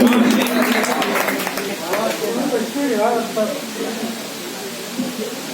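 An audience at a mushaira poetry recital in Deopur, Dhule breaks into loud, dense applause that holds steady for several seconds, with voices mixed in.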